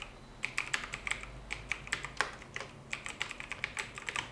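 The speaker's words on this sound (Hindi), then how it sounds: "यहाँ हमने उसको टाइप कर दिया।" An email address is typed on a computer keyboard while setting up Gmail forwarding: quiet, irregular clicks and taps in quick bursts, with no talking.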